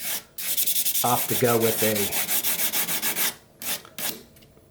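A fairly large whittling knife blade is rubbed back and forth on sandpaper to flatten its bevel, giving rapid rhythmic rasping strokes close up, with someone talking briefly over the scraping.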